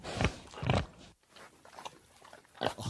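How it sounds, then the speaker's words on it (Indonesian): A pig squeals and grunts in loud, harsh bursts, close by, with scuffling and rustling noise between the calls. "ternyata suara babi baru menguik-nguik gitu ya."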